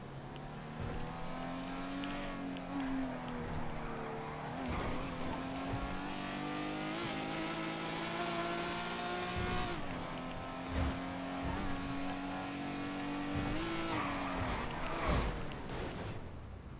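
A heavy car in a video game drives with a sustained engine drone that rises and falls through gear changes and revs, with a few sharp skid and impact bursts along the way and no talk.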